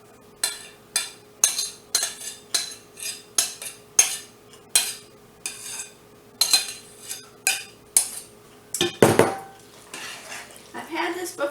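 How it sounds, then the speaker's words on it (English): Macaroni casserole being stirred and mixed in a casserole dish, with a steady run of about a dozen loud, close utensil scrapes and clinks against the dish, a short burst of talk near the end. "So I'm going to mix half of it into our macaroni."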